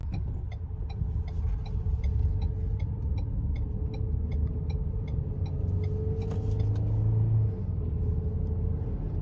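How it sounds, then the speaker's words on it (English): A twin-turbo car accelerates onto the interstate, its engine a low, steady rumble that swells slightly as it pulls, heard from inside with faint regular ticking over the drone and no talking. "Only one thing left we got to do: accelerate onto the interstate."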